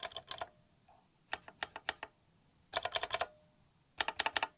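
Bursts of fast keyboard typing on linear mechanical switches, crisp smooth keystrokes in short clusters separated by brief pauses, close and fairly quiet.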